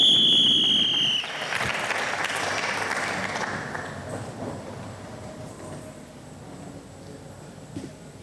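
Applause and cheering from a theatre improvisation audience for the referee: loud at first, then a dense, sustained clapping that slowly thins and fades over several seconds, with a sharp whistle-like tone in the opening second.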